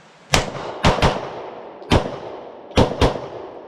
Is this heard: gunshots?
yes